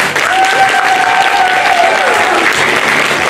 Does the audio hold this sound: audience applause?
yes